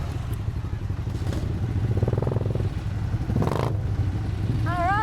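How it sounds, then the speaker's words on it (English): Several small motorbikes ride off together at a social riding meet, a steady low engine drone with clattering and rising revs, fairly loud and continuous, with a brief whistle-like tone near the end. "All on small bikes, making a racket."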